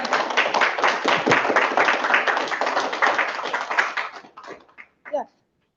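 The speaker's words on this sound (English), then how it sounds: "So let's give a round of applause." After a presentation on Long Island's aquifers, the audience breaks into a round of applause: about four seconds of dense, steady, close clapping that thins into a few last scattered claps and then stops.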